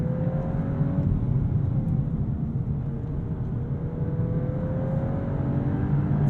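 A turbocharged four-cylinder hot hatch engine drones steadily from inside the cabin while accelerating, with a faint rising whine over constant road and engine rumble and no talk.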